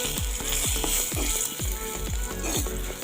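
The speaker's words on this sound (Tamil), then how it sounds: "அதே தாய்ச்சியில் தேங்காய் எண்ணெய் ஊற்றி அதை தாளிச்சிட்டு" Spices sizzle loudly in hot coconut oil, with steady crackling and a regular series of soft pops and scrapes throughout.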